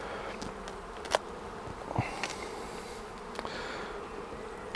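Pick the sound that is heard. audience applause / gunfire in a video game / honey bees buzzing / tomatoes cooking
honey bees buzzing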